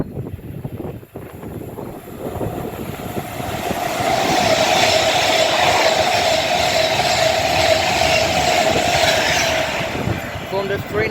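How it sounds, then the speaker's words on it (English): A Pendolino express train passing at Rugby on the West Coast Main Line, bound from London Euston to Manchester Piccadilly: a rushing roar that builds over a few seconds and holds steady and loud at close range with a rumbling clatter. "here we have another Pendolino going from London Euston to Manchester Piccadilly"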